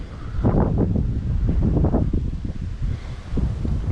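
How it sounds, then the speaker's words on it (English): Strong gusts of wind buffet the microphone in rough, rumbling bursts, with a faint rustle of leaves behind. "it's windy on the ground, it's even windier up higher"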